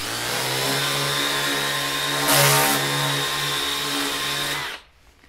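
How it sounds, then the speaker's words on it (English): A Ryobi RY124052 40-volt brushless EZClean power cleaner runs at its 15-degree pressure wash setting, giving a steady, loud motorized whine with a hissing water spray that swells briefly midway, then cuts off abruptly near the end. "And the 15-degree pressure wash."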